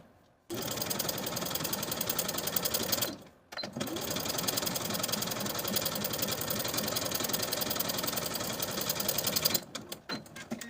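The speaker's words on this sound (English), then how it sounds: "Then we're going to sew the pocket to the seam allowance with 1/8 of an inch seam allowance from the top to the bottom of the pocket" A sewing machine runs in long continuous bursts, stitching a pocket to a dress seam allowance with a fast, even mechanical whir, stopping briefly twice.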